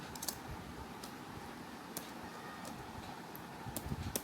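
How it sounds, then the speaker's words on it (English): Keystrokes on a computer keyboard while a spreadsheet column heading is entered, scattered soft clicks with a short quick burst near the end, quiet and alone. "Now we will type the heading of the column, like first we will type profit."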